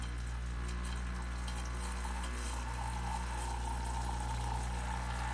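A KITCHMIX 20-bar espresso machine with a milk frother runs water into a glass. Its pump makes a steady, unbroken hum and hiss that stays at an even, fairly loud level throughout, with no talking.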